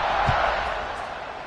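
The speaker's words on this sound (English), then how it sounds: "this crowd is buzzing after that last score" A football stadium crowd buzzes as one steady broad roar just before a kickoff, loud and constant with no clear voices standing out.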